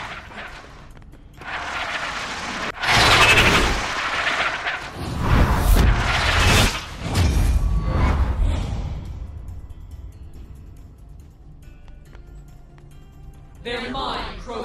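Gunfire in Tales from the Borderlands comes as several loud blasting bursts with whooshes mixed in. Characters talk and shout around and between the shots.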